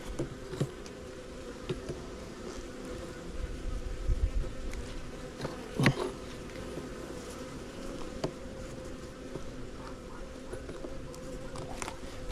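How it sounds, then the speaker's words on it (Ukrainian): Honeybees drone in a continuous, layered buzz around a hive, steady and close, with faint taps and rustles now and then. "Тут тихенькі бджоли, там якісь не тихенькі."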